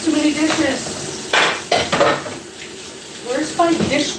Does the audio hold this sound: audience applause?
no